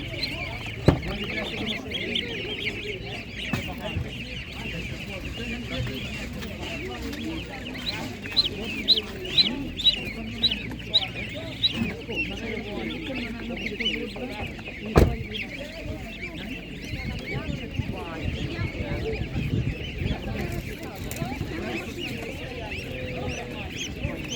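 Geese for sale at an outdoor market honk and cackle repeatedly, mixed with ducks and other fowl, moderately close, with people talking throughout over a busy background.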